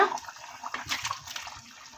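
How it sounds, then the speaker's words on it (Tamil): Ground colocasia (taro) tuber paste dropped into boiling tamarind kuzhambu in a home kitchen, giving a short, close splash and bubbling liquid sound over roughly two seconds, with no talking. "இப்போ வந்து நம்ம அரைக்கி வச்சா கிழங்கு சேர்த்துக்கோங்க"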